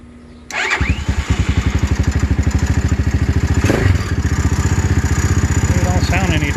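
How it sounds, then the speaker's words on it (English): Venom X22R 250 motorcycle engine cranking, catching and settling into a loud, rapid, lumpy idle close by, with a baffle fitted in the exhaust; a brief quiet lead-in precedes the start. "let's see if she cranks up. First crank up in the morning."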